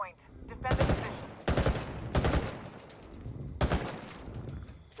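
Ghost Recon Wildlands gunfire in loud bursts of automatic shots, three or four heavy volleys separated by brief pauses, close and dominant, with some game voices.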